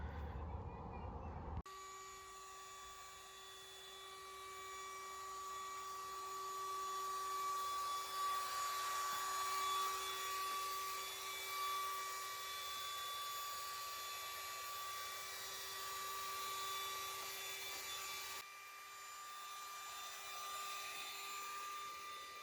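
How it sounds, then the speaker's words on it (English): A small electric pump plugged into a caravan power adapter inflates an airbed at a campsite by Midmar Dam, a steady loud whirring drone that starts abruptly, runs continuously and then cuts off near the end. "And I'm going to pump up my airbed now."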